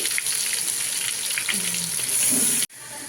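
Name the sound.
ginger, garlic and coconut paste frying in oil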